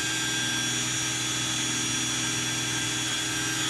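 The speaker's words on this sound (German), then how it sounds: "die Bohrmaschine hat gepumpt" A steady, loud mechanical whine of an electric drill driving a water pump, running continuously with a constant pitch and low buzzing hum, no pauses.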